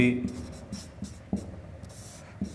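Pen or chalk writing during a Hindi-language maths lesson on probability, with short scratchy strokes in a steady rhythm close by, mixed with a low voice and some room hum.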